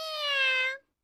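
A cartoon cat lets out a single long, bright meow that holds steady for most of a second and then cuts off into silence, heard loud and close with no talking around it.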